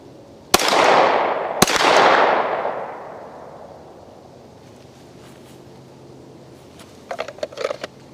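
Two loud pistol shots ring out about a second apart during shooting training at 25 yards, each with a long rolling echo, followed by quieter wind and small clicks and rustles.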